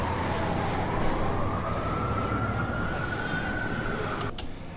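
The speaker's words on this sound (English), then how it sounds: "an audio file of city streets and ambient noises" Busy city street ambience: a constant traffic rumble with a siren wailing in the background, rising slowly in pitch.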